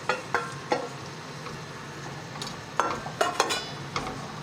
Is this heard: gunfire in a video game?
no